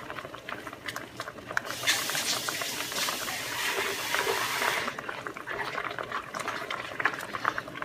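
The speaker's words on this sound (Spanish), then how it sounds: "Al jarrón de la blender, yo le voy a echar un poquito de agua" Water poured from a container into a blender jar in a home kitchen, a rushing splashing pour of a couple of seconds over a low background hiss and clatter.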